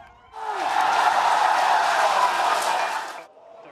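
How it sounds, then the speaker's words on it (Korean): SpaceX staff and members of the public cheer a rocket booster being caught in mid-air on its first attempt; a crowd roar swells in, holds steady and loud for about three seconds, then drops away. "이를 지켜본 스페이스X 직원과 시민들은 환호합니다."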